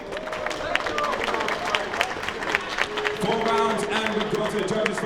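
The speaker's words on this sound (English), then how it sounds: "a round of applause for our third fight this evening" A crowd at a live fight event applauds and cheers after a four-round bout. Dense clapping and babble persist throughout, rising slightly toward the end, with an announcer's voice carrying over the noise.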